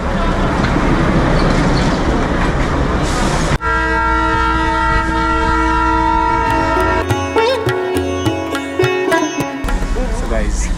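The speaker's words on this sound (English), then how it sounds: "Another diesel train is coming. That's powered by diesel." A diesel train on the Darjeeling Toy Train line sounds a long, loud, sustained horn close by over steady engine rumble, followed by clattering wheel and rail noise as it passes.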